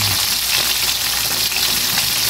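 Fish frying in a pan for a Bicol-style fried fish dish with fermented black beans, a steady dense sizzle of hot oil running loud and unbroken throughout.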